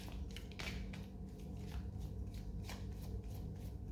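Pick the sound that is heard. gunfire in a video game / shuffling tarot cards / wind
shuffling tarot cards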